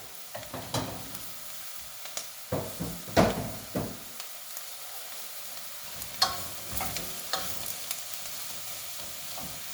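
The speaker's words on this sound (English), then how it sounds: "Mushrooms are in. Give them a stir around," Mushrooms frying in a pan for gluten-free cream of mushroom soup, a soft sizzle under repeated scraping stirs and clattering knocks of the utensil against the pan, close and intermittent.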